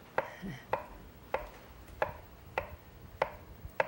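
Knife chopping mango on a cutting board for a raw mango pie, seven or so crisp evenly spaced strikes, close and fairly quiet with no talking.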